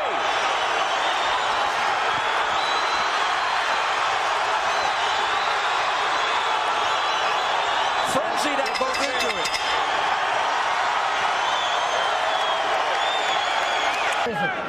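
Arena crowd noise at a professional boxing bout between Paulie Ayala and Johnny Tapia, a steady loud roar of cheering and shouting with a brief burst of sharper clatter and whoops near the middle, under a commentator's talk.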